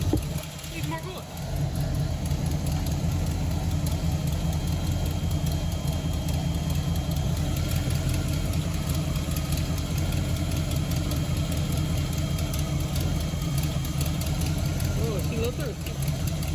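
A 1978 Pontiac Trans Am V8 with its original Quadrajet carburetor idling after a hard start, a steady, loud, close rumble with a slight uneven lope that continues unbroken under a voice.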